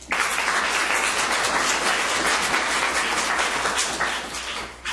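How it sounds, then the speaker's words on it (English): An audience at a university awareness-week panel gives a loud, steady round of applause for a speaker, dense overlapping clapping that continues evenly for several seconds before tapering at the end. "Please give a round of applause to Dr. Sharik Ramsey"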